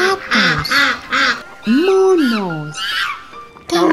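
A duck quacks repeatedly up close, a run of short nasal calls followed by a longer drawn-out honk-like call and a few more quacks, loud and alone.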